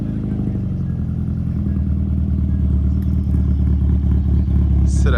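A small, light classic car with a centre-exit exhaust idles at a classic car breakfast meet, a steady low engine burble that holds evenly and close throughout with no talk over it.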